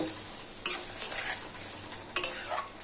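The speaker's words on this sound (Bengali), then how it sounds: "এই পেঁয়াজ কুচি দিয়ে দিচ্ছি গ্যাসের ফ্লেম লোতে রেখে পেঁয়াজ হালকা লাল লাল করে ভেজে নেব" Chopped onions sizzle in a pan over a low gas flame, a steady soft frying hiss broken by a few sharp scraping stirs of a spoon against the pan.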